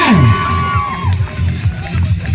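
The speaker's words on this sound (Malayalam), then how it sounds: "കയ്യടി വേണ്ട കയ്യടി വേണ്ട പ്രിയമുള്ളവരെ കയ്യടി വേണ്ട" A crowd roars and whoops at a tug-of-war contest between two local teams. The noise is loud and continuous, with an announcer's voice shouting over it.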